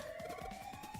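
Electronic alarm siren from the Zero Escape: 999 video game, a steady rising tone that sweeps slowly upward, continuous and fairly loud with a pulsing low rumble beneath, no voices.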